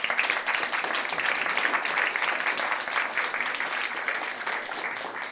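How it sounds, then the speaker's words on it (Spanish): A church congregation applauds loudly, dense continuous clapping from many hands filling the space evenly for several seconds, with no speech over it. "¿Alguien le puede dar un aplauso fuerte?"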